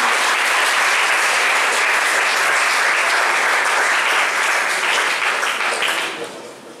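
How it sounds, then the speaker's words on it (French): Applause from an audience at a school journalism and media awards ceremony as the school principal is called to the podium, dense steady clapping that holds loudly before tapering off at the end, with no talk. "Sous vos applaudissements"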